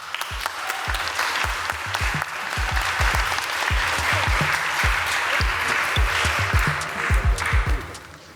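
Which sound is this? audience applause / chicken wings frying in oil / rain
audience applause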